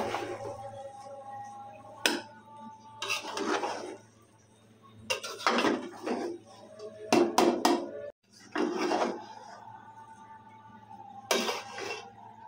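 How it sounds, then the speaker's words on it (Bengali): Spoon or ladle stirring biryani in a cooking pot, several separate bursts of scraping and clinking against the metal, close and moderately loud, with quiet gaps between strokes. "এখন বিরিয়ানিটাকে একটু নেড়ে দিব।"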